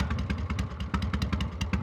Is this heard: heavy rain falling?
no